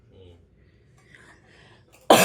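A person with a cold lets out one sudden loud cough near the end, after a stretch of faint low murmuring.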